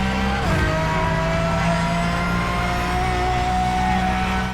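A race car engine in Project CARS 3 holds a loud, steady high-revving whine, with a brief shift in pitch near the start and a constant rumble underneath.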